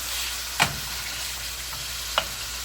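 Beef pieces brown in a pan, giving a steady, fairly quiet sizzle broken by two sharp clicks of a utensil turning the meat, close by, with no one speaking.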